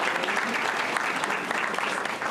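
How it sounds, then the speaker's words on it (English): Audience applause at a school district board meeting, honoring a middle school track athlete; steady, dense clapping from a crowd throughout, fairly even in loudness with no speech over it. "A round of applause for Carlos."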